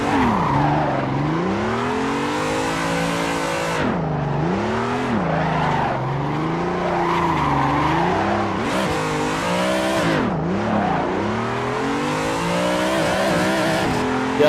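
Car engine in Assetto Corsa, a BMW M3 or Toyota AE86, revving hard and steadily while drifting donuts around tyre barriers, with tyres squealing continuously and pitch rising and falling through each slide, loud and close with no voices.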